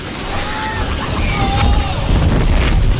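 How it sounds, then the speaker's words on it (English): A Protoss Nexus blowing up in StarCraft 2, a loud sustained rumbling explosion with crackling debris and rising whooshes, lasting about three seconds under the clamor of a live esports match. "Pretty epic Nexus explosion."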